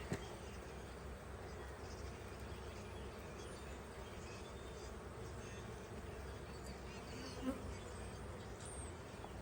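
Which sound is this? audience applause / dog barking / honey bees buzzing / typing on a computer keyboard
honey bees buzzing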